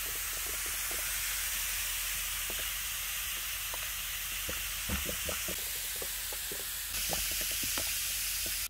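A frying pan soaks in a bubbling cleaning solution, fizzing and hissing steadily with a bright, steamy sizzle and scattered small pops throughout, close and continuous with no voices.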